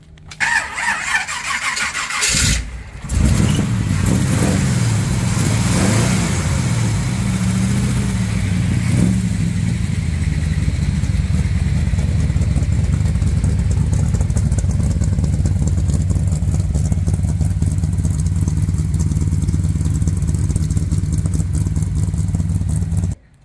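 A custom car's engine cranks and catches, revs briefly, then settles into a steady, loud idle that keeps running close by to the end.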